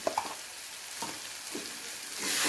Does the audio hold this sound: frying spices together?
yes